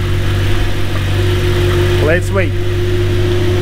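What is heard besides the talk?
Audi R8 engine running during clutch adaptation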